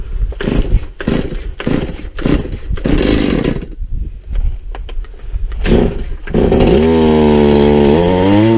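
A chainsaw cutting through lake ice on a fishing trip, loud and close, with the engine revving in bursts and dropping back between cuts, then settling into a steady high idle.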